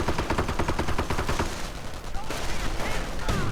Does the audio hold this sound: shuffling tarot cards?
no